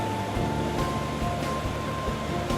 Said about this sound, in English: You and a guide get onboard rubber tire tubes and go on a wet and wild ride over the rollicking current